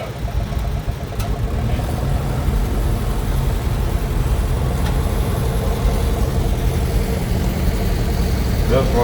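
A vintage 1950s Oliver tractor engine runs in a summer show parade, a steady mid-low engine chug that is continuous and fairly close, with a person talking over it.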